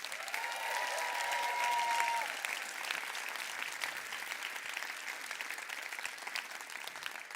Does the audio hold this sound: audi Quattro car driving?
no